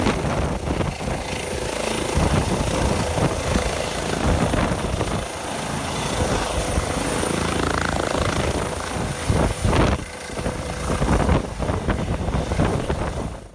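A medical transfer helicopter near a stadium in Pitești, Romania: steady rotor roar and engine drone, loud and continuous, with some wind buffeting on the microphone.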